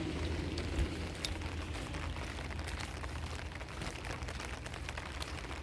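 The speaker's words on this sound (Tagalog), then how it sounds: "Ulan lang." Rain pours steadily over Milan, Italy, an even, unbroken hiss of drops on pavement and roofs, moderately loud and close, with no speech.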